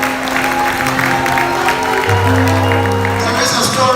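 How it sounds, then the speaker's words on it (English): Audience applause at a graduation ceremony for the royal prince of Asantemān, with the outgoing 2023-2024 head boy, a steady dense wash of clapping with crowd noise and sustained tones over it throughout. "I guess the applause says it all."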